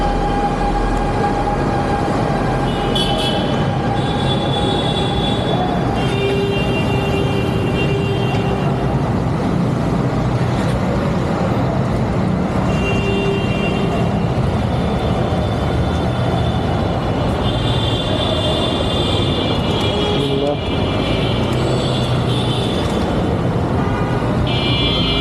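A Honda NX200 motorcycle rides through Dhaka traffic, a loud continuous engine drone and wind rush with occasional horns and passing vehicles, no talk.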